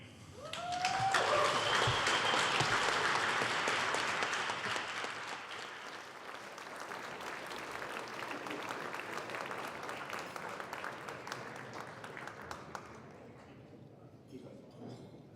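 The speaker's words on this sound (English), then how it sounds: "give a big applause to yourselves and to the winner and all the winners" Loud applause from a large audience at a game awards ceremony in Finland, swelling at the start and then continuing as dense, sustained clapping that slowly thins out toward the end.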